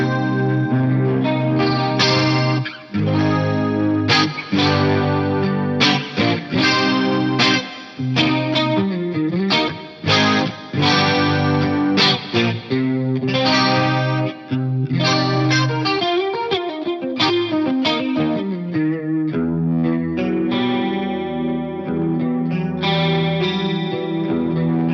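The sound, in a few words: guitar clean preset through multi-effects unit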